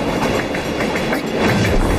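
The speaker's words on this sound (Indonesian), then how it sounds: "Untungnya ada kereta melintas di pasar ikan itu." A train passes through a fish market, its carriages rolling by loudly and steadily with rhythmic clickety-clack wheel beats and no speech.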